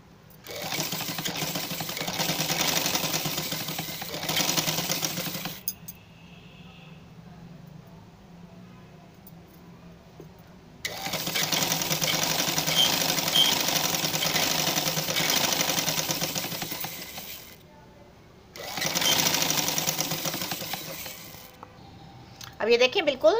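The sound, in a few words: sewing machine stitching a peplum frock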